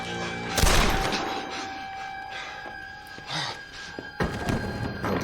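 A single sharp gunshot rings out in a dramatic TV crime drama scene, followed by ringing tones, faint shuffling and a second thudding impact near the end.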